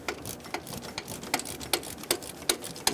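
A hand wrench clicks in steady, rapid ratcheting strokes while working the 14mm bolts holding a starter on a 2012-2017 Toyota Camry, close and crisp.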